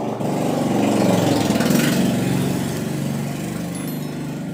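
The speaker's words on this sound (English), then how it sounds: "Sorry for the noise, I'm living beside the road" Road traffic passing outside a house beside the road, a loud steady engine drone that swells and eases over a few seconds with no talk.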